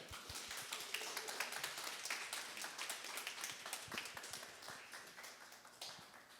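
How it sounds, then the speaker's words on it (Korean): Congregation applause welcomes a pastor to the pulpit at a Sunday church service, a moderate, fairly faint patter of many hands clapping steadily throughout before gradually thinning. "우리 뜨거운 박수로 맞이해 주시면 감사하겠습니다"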